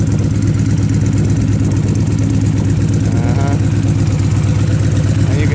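A 2011 Victory Vision Tour motorcycle with D&D exhaust idles steadily, a smooth, even low rumble with a fast regular pulse, close and loud throughout with no talking over it.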